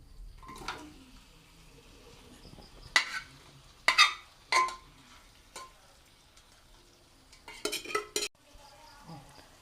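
Cooked chicken curry tipped from a pressure cooker into a pot, heard as a few sharp metallic clanks and scrapes of cookware, spaced out, close and fairly quiet between hits.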